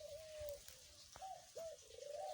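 Doves in a coop give soft, repeated cooing calls, quiet and fairly distant, with low rumbling background noise.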